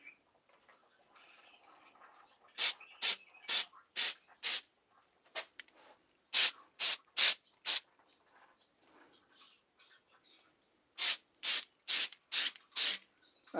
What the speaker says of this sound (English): I'm not caring for how it's spraying.